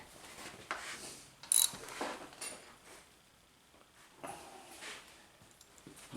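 Bolts being tightened on a power steering pump of a GMC/Chevy 1500 truck, with close, uneven ratcheting clicks and metallic mechanical bursts spread across a few seconds, and no speech.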